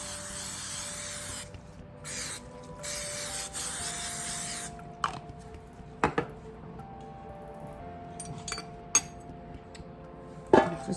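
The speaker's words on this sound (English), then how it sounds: "I'm gonna spray my baking pan." Several short hissing bursts of an aerosol spray, followed by light clinks and handling noises of a pan.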